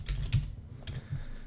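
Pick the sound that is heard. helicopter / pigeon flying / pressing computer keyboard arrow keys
pressing computer keyboard arrow keys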